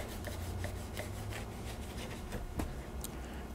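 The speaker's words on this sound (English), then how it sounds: "I'm slicing these at about, 3/8 of an inch thick" A knife rasps through coconut pineapple biscotti at an angle, several quiet repeated scraping strokes with crumbly rubbing, close and soft, no talk.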